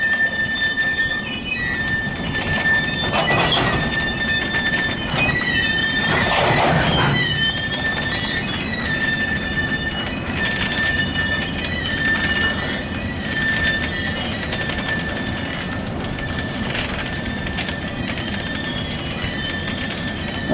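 A CSX freight train loaded with stone rolls toward the yard, its wheels squealing sharply over a continuous rumble of passing wagons, close and fairly loud.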